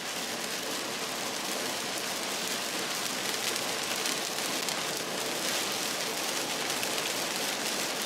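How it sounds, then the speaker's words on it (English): Heavy rain pounding on a car during a Mississippi tornado storm chase, a dense steady roar of drops drumming on the roof and glass, loud and unbroken, with no talking. "Get me out of this rain, please."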